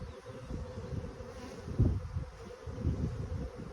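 Honey bees buzz around an open hive during an inspection, a low steady hum with individual bees droning closer in brief swells, fairly quiet and with no talking.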